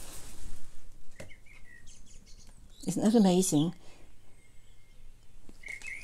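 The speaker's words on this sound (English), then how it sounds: "turn up my bird song." Blackbird song plays as melodic, warbling phrases with a few brief chirps scattered around them, moderately loud over a quiet room, while a person speaks briefly.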